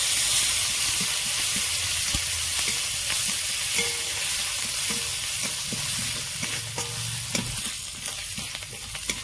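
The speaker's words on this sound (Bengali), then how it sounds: "আদা রসুন কাঁচা লঙ্কা আমি ভালো করে ভাজা ভাজা করে নিয়েছি।" Grated garlic, grated ginger and chopped green chili fry in hot oil while being stirred, producing a close, busy sizzle broken by repeated scraping and clinking of the spoon against the pan, with no talk.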